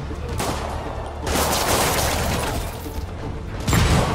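Rocket and gunfire barrage in a Spider-Man video game: dense, loud bursts of explosive firing and booms that swell in waves, with game music and effects layered underneath.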